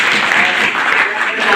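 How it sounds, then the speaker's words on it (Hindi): Students and audience at a Rajyoga meditation training session at Kisan Postgraduate College, Sewra, clap together in steady, dense applause that fills the short moment from start to end. "ताली बजाइए।"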